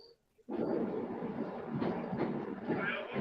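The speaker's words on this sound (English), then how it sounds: "That's a train going the other way." A train going the other way rushes past, heard from aboard another train, as a sudden loud rumble and rattle that starts after a brief lull and holds steady with faint clatter.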